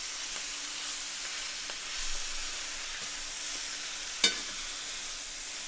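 Shrimp stir fry sizzles in a pan with a steady, fairly quiet hiss, and a single bright clink of a utensil near the end.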